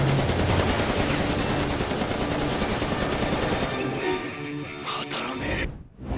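Dense, rapid automatic gunfire from a shooting video game rattles continuously, then thins out and cuts off near the end.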